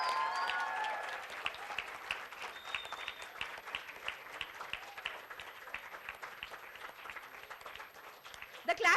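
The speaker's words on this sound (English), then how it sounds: "So please give a standing ovation and a round applause round non-stop for him." An audience at an award lecture ceremony applauds, a dense run of steady clapping that carries on for several seconds, with a voice talking briefly at the start.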